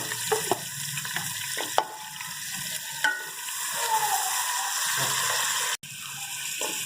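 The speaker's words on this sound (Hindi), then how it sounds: "अब इस प्याज को हम ब्राउन कर लेंगे।" Three small chopped onions fry in oil in a pan, a continuous crackling sizzle with occasional clatters of a utensil, fairly close and with no talk.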